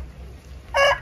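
A rooster crowing close by in a farmyard with hens, one loud crow breaking in over low background noise near the end.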